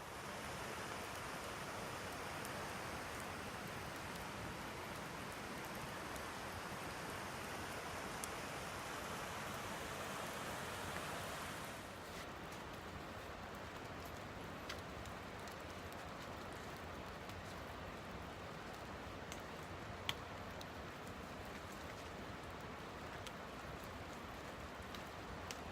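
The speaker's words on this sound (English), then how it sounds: "Started fully raining now. It's light, it's not heavy." Light rain falls at a small beach area on a trail, a soft, even hiss that grows slightly quieter partway through, with scattered faint drips and no voices.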